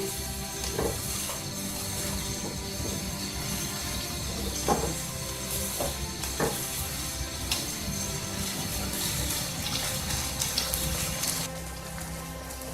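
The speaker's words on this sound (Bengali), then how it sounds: "এখন হাই হিটে চার থেকে পাঁচ মিনিট সবজিটাকে রান্না করতে হবে" Chinese-style mixed vegetables cooking on high heat in a pan give off a continuous hiss and sizzle. A few sharper clinks and stirs sound over it, with no voices.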